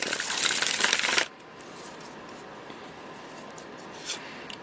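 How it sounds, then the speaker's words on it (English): Tarot cards are shuffled in a brief, close, crisp riffling burst lasting about a second, followed by quiet room tone with a faint soft rustle. "One more shuffle."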